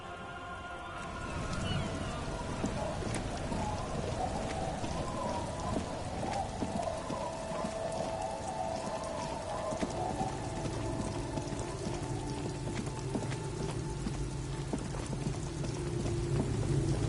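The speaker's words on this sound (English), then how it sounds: "It's getting late, and it's raining." Steady rain from the video game Disco Elysium pours down with a dense hiss, running continuously and evenly throughout, with a low rumbling tone and faint musical hum beneath it.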